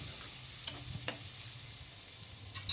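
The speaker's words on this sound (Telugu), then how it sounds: "ఇది కూడా వేసుకొని బాగా ఫ్రై చేసుకోవాలి మీడియం ఫ్లేమ్ మీద" Carrots and onions fry in a pan over a medium flame with a soft, steady sizzle and a few faint stirring clicks and taps.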